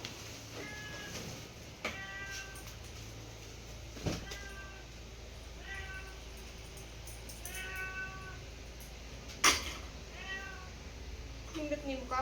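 Several cats meow repeatedly, short rising calls spaced every second or two at moderate distance, over a low steady background hum with a few knocks, and a person speaks quietly among them.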